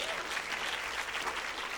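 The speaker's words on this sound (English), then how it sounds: "Give her a round of applause." An audience applauds a youth charity leader at a Black Youth Can mixer, a brief, even wash of dense clapping heard from within the room.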